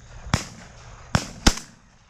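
Shotgun blasts ring out during an opening-day dove hunt on a public pay-to-hunt field in Dunn, North Carolina. There are three sharp reports, one and then a quick pair, at moderate distance over faint outdoor background.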